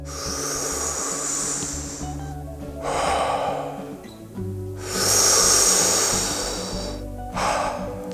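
A deep breathing exercise with slow, loud, close-up inhales and exhales that alternate in long swells, separated by brief quiet pauses.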